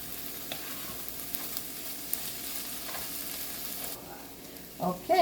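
Spinach and leftover green chilies sizzle in a frying pan, a continuous close hiss with occasional spatula scrapes, ending in a few louder clattering stirs.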